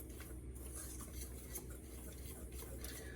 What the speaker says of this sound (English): You always mix your dry ingredients first. So I just mix that up.